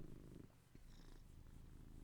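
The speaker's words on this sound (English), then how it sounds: "Listen to that purr." House cat purring close by, a soft steady low rumble with rhythmic breathing cycles, quiet and continuous with no voices over it.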